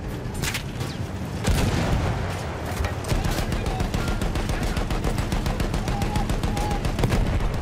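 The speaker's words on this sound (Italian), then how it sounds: "Spari bene, McManus!" Battlefield 1 gunfire in a World War I battle, with rapid machine-gun bursts and repeated close shots running steadily throughout, plus a heavy boom near the start and shouted voices in the mix.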